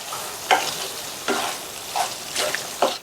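Spoon stirring okra masala (vendakkai onion curry with coriander leaves) in a pan, five distinct scraping strokes spaced about a second apart over a soft background sizzle, close and clear with no talking.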